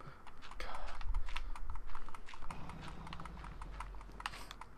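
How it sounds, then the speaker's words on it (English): A game controller trigger is clicked rapidly in irregular bursts during Minecraft play, a close, crisp clatter of plastic clicks with brief pauses. "I'm clicking my left trigger furiously here."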